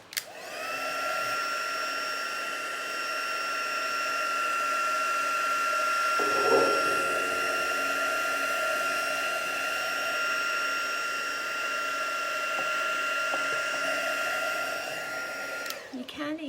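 Heat tool or hair dryer drying paint on an art journal page, a steady loud whirring hum that runs continuously for about fifteen seconds before cutting off.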